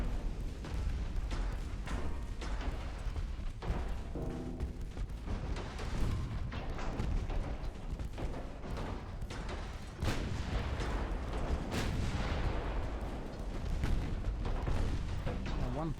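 Naval gunfire in the game Ultimate Admiral: Dreadnoughts, with dense, repeated booming salvos and rumbling impacts over a continuous loud battle din, while someone talks throughout.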